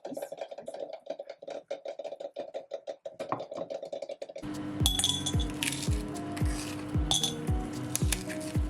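A utensil mixes a whole egg with a four-spice blend in a bowl, producing rapid, rhythmic clinks against the bowl. Then comes a denser clatter of kitchenware with sharper metallic hits.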